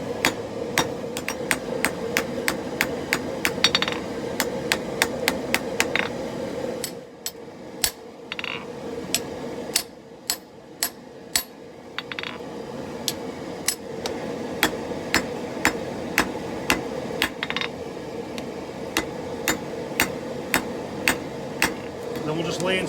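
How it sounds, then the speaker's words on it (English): Sharp metallic hammer strikes on an anvil, forging a puukko knife blade, ring out in a steady, rapid rhythm, briefly pausing before resuming, over a low background hum. "Now it's pretty much just run-of-the-mill forging out a blade."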